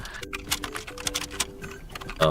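Date being typed on a computer keyboard, a run of quick uneven key clicks close by with brief pauses, while a person talks over it.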